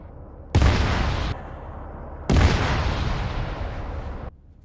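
An anti-tank round fired at a BRDM armoured vehicle in the Arma 3 military game, heard as two heavy, roaring blasts a couple of seconds apart, each rumbling on and then cutting off.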